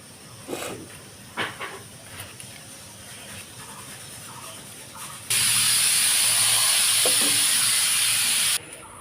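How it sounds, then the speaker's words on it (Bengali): Pressure cooker boiling chickpeas lets off a loud, sharp steam whistle that begins suddenly midway and hisses steadily for about three seconds before cutting off, after quieter kitchen clatter. "আলু কাটতে কাটতে দিয়ে প্রেশারটাও সিটি দিচ্ছে"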